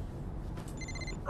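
A mobile phone rings with a short, thin electronic tone. It sounds faint against a low indoor room hum.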